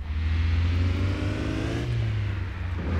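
Motorbike engine in the City Car Driving video game revving steadily with the handbrake on, a loud, constant low drone with a slight pitch rise near the end, no talking.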